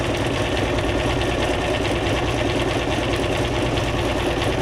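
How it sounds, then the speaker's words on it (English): A close, loud sewing machine runs without pause while stitching paper ephemera for a junk journal, its rapid needle chatter and motor hum holding steady throughout. "I love the sound of the sewing machine."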